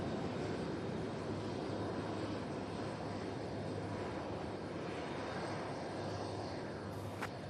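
A jet airliner landing at Louisville SDF airport on a calm day: a loud, steady broadband engine roar that stays continuous for the whole span with no voices.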